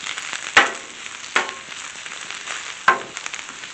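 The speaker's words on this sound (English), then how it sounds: "There was that nice sizzle I always like to hear." Onions sizzle on a Blackstone griddle, a close, steady frying hiss broken by three sharp scraping clacks of a spatula pushing them across the hot surface.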